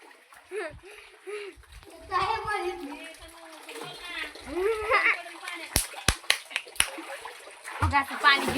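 A child swims in an outdoor water tank on a hot sunny day, making several close splashes amid a noisy jumble of sound, with people talking and a few sharp slaps near the end.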